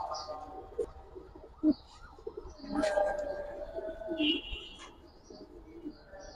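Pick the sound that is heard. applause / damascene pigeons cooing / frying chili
damascene pigeons cooing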